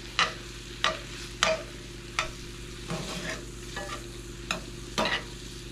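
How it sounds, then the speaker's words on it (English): Beef frying in a pan with bacon grease, a steady low sizzle broken by several sharp scraping stirs spaced about a second apart, close and fairly quiet with no talking. "I'm going to toss a little bit of bacon grease in with this beef just to see if I can add some flavor"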